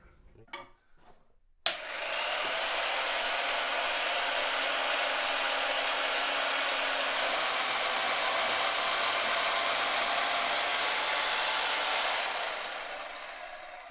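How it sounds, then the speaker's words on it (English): A bandsaw cuts down a metal shaft in a workshop, a loud steady whining hiss that starts abruptly after faint clatter and runs evenly for about ten seconds before tapering off. "So we start with the bandsaw, we'll cut it down"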